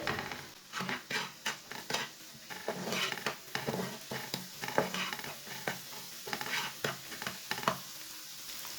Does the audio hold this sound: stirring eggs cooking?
yes